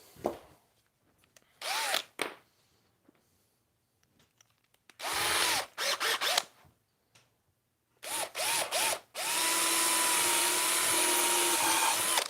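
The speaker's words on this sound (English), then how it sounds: "drill a couple of holes in there." A power drill whirs in several short bursts with pauses between, then runs in one longer sustained stretch, drilling holes in a Darth Vader TIE Fighter model, close and fairly loud, with no talking.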